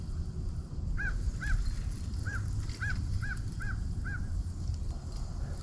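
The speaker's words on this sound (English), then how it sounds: "Just me and the crow today." Crows caw in a series of about seven calls spaced roughly half a second apart beside a lake in East Tennessee, mid-distance over a steady low outdoor rumble.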